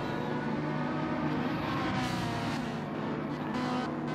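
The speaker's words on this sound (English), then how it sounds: "Great racing by the two Ferraris here." Two Ferrari race cars in Gran Turismo 7 running side by side, steady high-pitched engine drone held loud and close throughout, with a slight shift as gears change.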